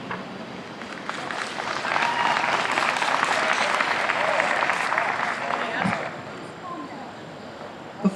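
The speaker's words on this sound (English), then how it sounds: "please hold your applause until the very end of tonight's proceedings." Audience applause fills a candidate forum hall, building to a full, steady clapping for several seconds before tapering off into quieter room sound.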